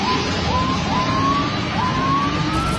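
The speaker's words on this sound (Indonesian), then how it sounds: "suara Totot Wukuk atau penggunaan sirine di jalan raya maupun jalan tol" A loud wailing emergency siren sweeps up and down repeatedly, close and continuous, with road noise underneath, on an Indonesian road or toll road.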